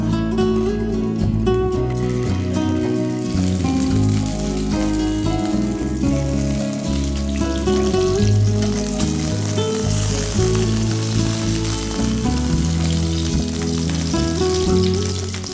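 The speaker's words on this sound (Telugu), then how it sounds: "ఎగ్ వేయాలి ఇందులో, బాయిల్ చేసిన ఎగ్" Boiled eggs fry in hot oil for an egg pickle, giving a loud, dense, unbroken sizzle and crackle that runs throughout, with tonal background sounds layered beneath.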